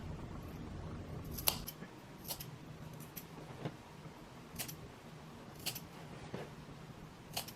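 Scissors snip into a fabric seam allowance on a sewn bodice piece, a series of quiet, crisp separate cuts spaced unevenly over a soft background, close and faint.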